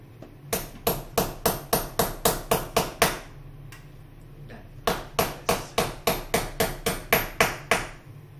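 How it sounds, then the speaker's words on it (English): Heavy hammer blows strike in steady rhythm, about a dozen in quick succession, a short pause, then another run of loud, ringing impacts. "Should I have a big hammer?"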